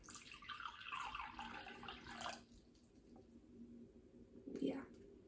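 Water poured from a SMEG kettle into an empty mug, a smooth steady stream for about two seconds, followed by quiet and a short faint splash.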